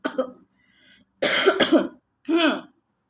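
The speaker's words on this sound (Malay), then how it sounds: "Ya Allah, batuk." Three harsh coughs at close range, the middle one a double burst, with a brief pause between each, from a person with a cough.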